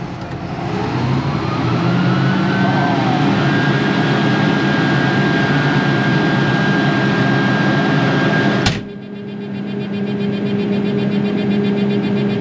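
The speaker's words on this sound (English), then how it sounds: "Ain't nothing like the sound of a cotton picker fan kicking on" A cotton picker fan spools up into a loud, steady roar with a rising whine, then cuts off abruptly, leaving a quieter mechanical hum.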